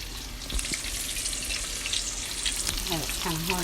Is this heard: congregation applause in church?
no